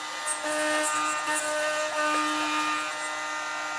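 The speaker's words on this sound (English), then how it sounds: "I'll be cutting the joinery using the CNC" A CNC router cuts wood joinery for a table, giving a steady, loud machine whine with a sustained tonal hum that holds without a break from start to finish, with no voices.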